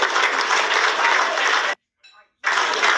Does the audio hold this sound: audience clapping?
yes